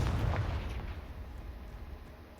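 A Confringo fire-blast spell explodes in the Hogwarts Legacy video game: a deep, booming burst that hits loud at once and then rumbles away over a couple of seconds.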